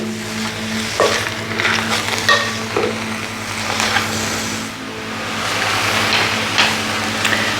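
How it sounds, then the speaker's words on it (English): Vegetables stir-fry in sesame oil for an Asian hot pot, a steady low sizzle with occasional scraping and stirring clatter from the pan, close by and with no talk. "So we're essentially stir frying."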